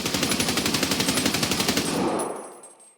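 A rapid burst of full-auto assault rifle fire in Escape From Tarkov, loud and continuous for about two seconds, then tailing off into an echoing decay.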